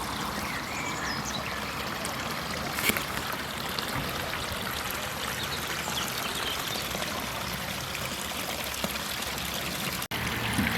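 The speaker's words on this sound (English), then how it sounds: "Continues up here, the waterfall." A small waterfall stream in Tunstall Park flows with a steady, continuous rush and splash. It carries on for the whole stretch, with only faint background noise.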